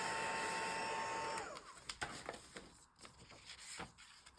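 Heat gun blowing to dry ink on a gel print, a steady whirring blower hum that cuts off partway, followed by quiet clicks and rustles of handling.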